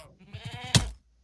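A goat bleats in a video game, a single wavering call with a short sharp burst near the end, close and fairly loud with no talk over it.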